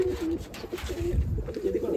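Racing pigeons at a pigeon club tournament in Amritsar coo in low, soft, repeated phrases, close by, over a steady background hum with no talking.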